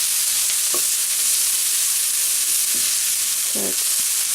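Curry spices fry in fat with a loud, continuous sizzle and hiss. A few brief scraping stirs cut through it, and no one speaks.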